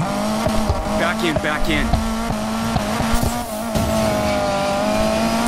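Tires squeal as a car drifts through a drifting event in Need for Speed Payback, a sustained high screech over a steady engine drone, with someone briefly talking over it.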